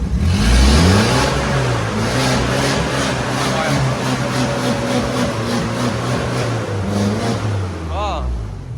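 A Tata CNG car with a faulty control box and poor acceleration has its engine revved in a workshop, rising and falling in pitch over several seconds close by, with a mechanic talking over it.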